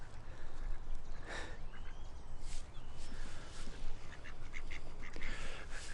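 Ducks quack in short scattered bursts at middling distance over a constant outdoor wash of water and wind, with no one talking.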